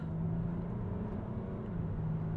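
A Jaguar XFS pulls away with a low, steady engine drone heard quietly from inside the cabin, even and unbroken.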